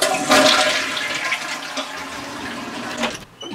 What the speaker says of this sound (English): Oh look, someone forgot to flush.